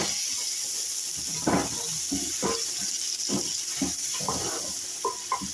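Masala spices frying in a pan, a steady hiss of sizzling oil with intermittent soft stirring knocks and scrapes close by, no voices.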